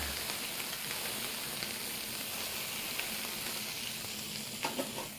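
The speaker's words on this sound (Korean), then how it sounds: "네, 지글지글 맛있는 소리가 납니다." Ingredients, onions first, frying over high heat in a pan, a dense, steady sizzle filling the whole stretch at close range, with a few faint clinks near the end and no talk.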